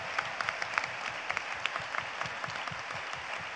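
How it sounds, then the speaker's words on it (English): A convention panel audience applauds at a voice-acting-for-animation event, a steady patter of many hands clapping at moderate volume, close and continuous throughout. "I think we should all round of applause for Monty, yeah."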